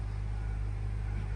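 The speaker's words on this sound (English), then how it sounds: "the car is started" A 2018-2022 Honda Accord engine running just after starting, a steady low rumble close by with no talk.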